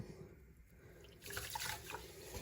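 Quiet swishing and sloshing of water as millet is rinsed, starting softly then growing busier and louder halfway through.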